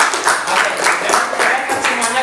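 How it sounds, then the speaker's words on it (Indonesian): A classroom of students claps together, a dense burst of quick, uneven applause that carries on briefly. "tepuk tangan untuk ketua kelasnya deh"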